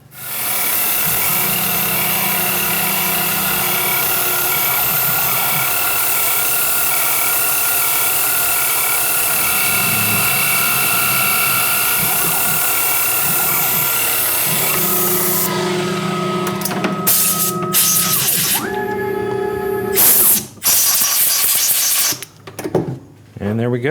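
A drill bores straight through a metal clamp for a hand scraper in a single continuous push, with no pecking, making a steady mechanical drone that shifts pitch midway before breaking into rattling, irregular cutting noise near the end.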